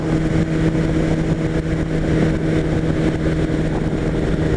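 A Kawasaki ZX10R sport motorcycle sits idling in neutral, a steady low engine hum with a constant drone and no revving, heard up close with no one speaking.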